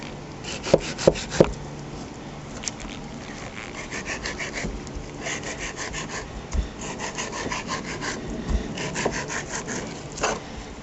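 A fillet knife slices the skin off a flounder fillet, giving repeated scraping, rasping strokes close up, with a few sharper ticks at the start and no talking.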